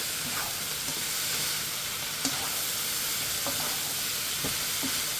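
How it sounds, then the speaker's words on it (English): Chicken and zucchini stir-frying in a pan, a steady loud broadband sizzle with scattered clicks of a utensil stirring and scraping, no voices. "so that's all my zucchini right there. Continue to stir."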